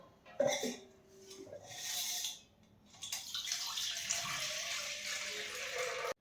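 Rice and lentils are washed in water, with sloshing, swirling and splashing close by that grows into a steady rush of running water in the second half.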